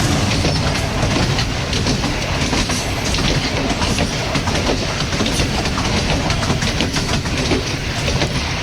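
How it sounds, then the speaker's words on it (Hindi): Passenger train running at speed near Pindi, a loud continuous roar of rolling wheels and rattling carriages with steady rhythmic clatter heard close up throughout. "पिंडी के काफ़ी करीब पहुंच गए और स्पीड भी पकड़ ली है ट्रेन ने"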